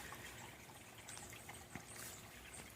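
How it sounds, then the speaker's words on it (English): Water trickling and splashing in a small garden water feature, a faint continuous dribble with a few brighter splashes, no talking. "we put a rock in here to try to eliminate the splashing"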